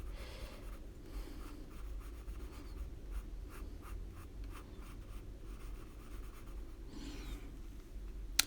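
A pencil moves over paper in quiet, scratchy strokes, a run of short rhythmic scribbles and then a longer rub, faint and close.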